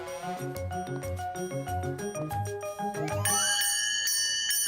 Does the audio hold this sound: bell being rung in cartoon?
yes